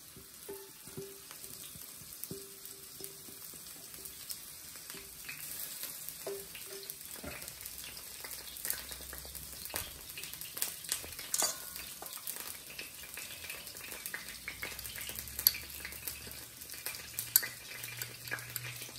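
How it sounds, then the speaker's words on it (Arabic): Grated onion frying in oil, heard as a faint, soft sizzle with scattered light clinks and stirring scrapes against the pot over about nineteen seconds, quiet and close. "وتنوضع في الزيت البصل المبشور"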